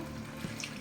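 Half a cup of water pours into a hot pan of floured meatballs, a soft, steady rush of liquid that is faint and brief, with a small splash near the middle.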